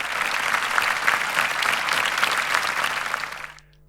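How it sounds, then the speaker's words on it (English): A crowd applauds the Indemo team and community during a quarterly business review presentation, steady sustained clapping that cuts off abruptly near the end. "the Indemo team and our community definitely deserve the applause"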